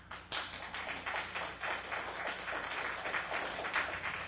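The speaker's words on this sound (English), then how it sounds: "if we could hold down the applause" Audience applause fills a city council meeting chamber in Newport Beach, a steady, dense wash of many hands clapping at fairly close range that holds without a break.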